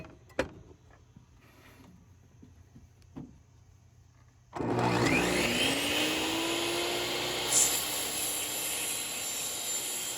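A table saw spins up with a sudden loud motor whine after a few quiet seconds with small knocks. It then runs steadily through a cut in wood for a sword display shelf, with a brief rise in pitch partway.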